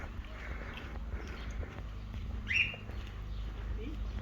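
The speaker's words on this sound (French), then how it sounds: "des petits oiseaux qui t'appellent" Small birds call faintly outdoors during a stop at Guadix, with one clear chirp standing out midway over a steady low background rumble.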